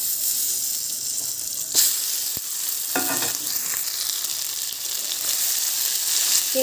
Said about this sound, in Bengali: এটাকে ভালোভাবে আমি ভেজে নেব।